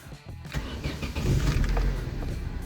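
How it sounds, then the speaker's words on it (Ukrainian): An Opel Astra G with a Z16SE engine cranks briefly and then catches, settling into a loud, steady idle close by. "Автомобіль завівся,"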